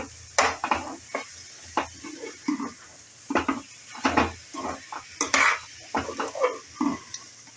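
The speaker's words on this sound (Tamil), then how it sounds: "நான் தேங்காவை போட்டுறேன் நல்லா பரட்டிட்டு" Spoon stirring grated coconut with cooked vegetables in a pan while making poha biryani, irregular scraping knocks of metal on the pan over a soft sizzle, close and moderately loud, without talk.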